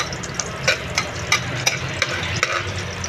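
Garlic sautés in a hot pan, a soft steady sizzle broken by regular spatula scrapes and stirring taps roughly every half second.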